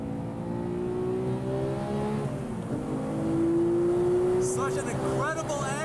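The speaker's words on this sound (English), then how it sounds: "Love that heel toe rev match." A Porsche 911 991.2 GT3 with the stock six-speed manual, sport exhaust and PASM engaged, revs on a track during a heel-toe rev match, the engine note falling then climbing in a smooth sweep with speech over it.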